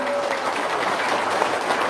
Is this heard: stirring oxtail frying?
no